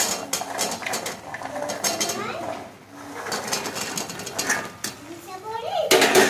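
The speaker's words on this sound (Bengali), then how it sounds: "এখন আস্তে আস্তে নাড়তে নাড়তে আমার গজাটা পুরো রেডি হয়ে যাবে" A spoon stirs gaja sweets through thick sugar syrup in a metal pan, with repeated scraping and clinking of utensil on metal and sticky bubbling under someone talking almost continuously.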